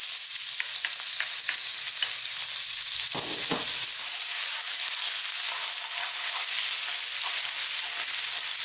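Curry leaves, garlic and ginger fry on high heat for an eggplant and chickpea curry, giving a loud, continuous sizzle with a few sharper crackles and a brief scrape of stirring in the pan.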